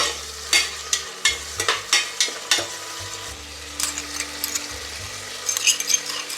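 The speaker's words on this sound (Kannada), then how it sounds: "ಈ ಥರ ಫ್ರೈ ಮಾಡ್ಕೋಬೇಕಾಗುತ್ತೆ" Chicken with onion and green chilli fries in a pan and sizzles steadily. A spoon scrapes and clanks against the pan in repeated bursts as the food is stirred, and no one speaks.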